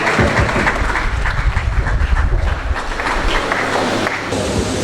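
An audience at a pharmacists' national scientific conference in Nigeria applauds for a speaker in a dense, steady roar of clapping that lasts the whole stretch and is heard alone.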